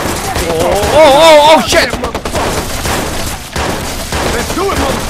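Rapid bursts of gunfire and explosions from the video game Watch Dogs, loud and dense, with a man's excited exclamations and talk over the shooting.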